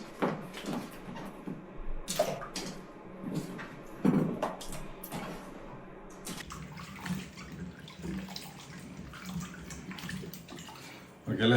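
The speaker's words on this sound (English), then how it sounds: "let's get rid of this water and take a fresh water for boiling" Potato boiling water splashes and pours out in bursts into a kitchen sink, with sink clatter and a running-water wash; loud and close, with some background voices.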